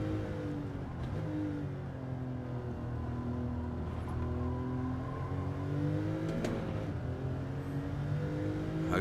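Porsche and Honda Civic race cars in a racing video game, their engines droning and revving steadily at close range through a Nürburgring time-trial lap, with pitch rising and falling as they shift and accelerate.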